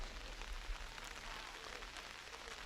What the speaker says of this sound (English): As the rain starts to come down even harder.